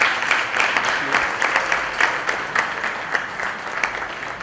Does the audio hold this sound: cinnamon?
no